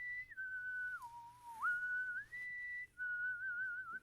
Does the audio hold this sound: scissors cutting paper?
no